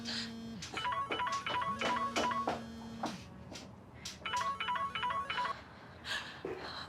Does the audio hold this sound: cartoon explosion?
no